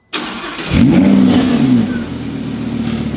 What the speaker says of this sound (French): Maintenant Martial, le truc que les gens attendent tous, le petit bruit de démarrage.